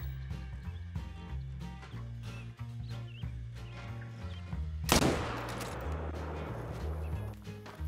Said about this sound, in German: Ich schieße da jetzt drauf, 100 Meter Entfernung.